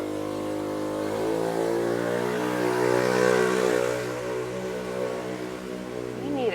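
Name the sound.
scooter engine revving past outside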